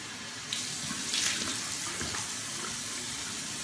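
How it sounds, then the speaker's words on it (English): Tap water runs steadily into a bathroom sink, with brief louder splashes as water is cupped and splashed onto a face; close and continuous, no talking. "I'm just going to splash my face with some water first to show you how water resistant it really is."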